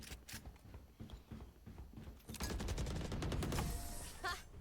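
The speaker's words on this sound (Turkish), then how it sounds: "vur Reyna ya" Gunfire in the video game Valorant, rapid automatic shots with scattered single shots first, then a denser, louder volley, fairly close.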